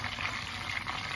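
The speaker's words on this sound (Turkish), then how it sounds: "Şimdi daha öncekini kızarttığım tenceredeki yağın içerisine koyuyorum." Cheese-stuffed California peppers frying in hot oil in a pot, giving a faint, steady sizzle and bubbling that runs continuously through the clip with no talking.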